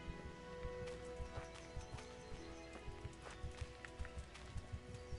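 A horse named Pebbles gallops up in the medieval video game Kingdom Come: Deliverance, its hooves thudding in a steady rhythmic clip-clop that grows over a low ambient game background, with no voices.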